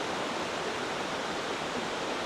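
A vertical waterfall roars as a constant, dense broadband rush, steady and loud with no breaks, heard from close range.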